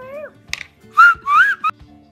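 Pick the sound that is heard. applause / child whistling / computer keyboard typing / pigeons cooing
child whistling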